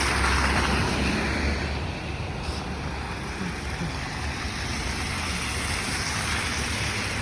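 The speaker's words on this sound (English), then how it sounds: "So, vehicles driving carefully, hopefully, you know." Cars driving slowly on a snow-covered street in Brooklyn, New York, heard as a soft, steady hiss and wash of tyres and traffic with no voices.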